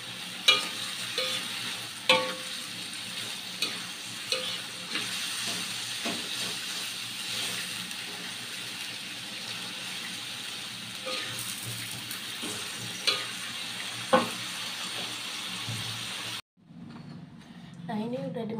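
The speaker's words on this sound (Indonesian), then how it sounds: "Kita aduk lagi ya, jangan lupa tes rasa." Stir-frying beef skin (kikil) with green chili and petai in a pan, a steady sizzling hiss with scattered scraping stirs, close and fairly loud, cutting to near quiet at the end.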